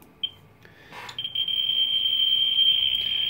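A Ludlum Model 3 survey meter, audio switched on, held near an old radium watch, gives a few scattered clicks, then a loud, continuous high-pitched tone that holds to the end.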